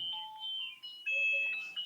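A phone rings with an incoming call, two short bursts of a bright electronic ringtone melody separated by a brief gap, fairly close and clear with no talking over it.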